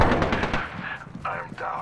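Gunfire in an Apex Legends match comes as rapid, loud bursts of shots close up, with short pauses between volleys.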